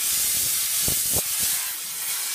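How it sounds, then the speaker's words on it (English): Steam cleaner spraying wet steam with the valve wide open, a loud continuous hiss close by with a few short low bumps partway through. "this is more wet steam technically because it's condensating as it hits the surface"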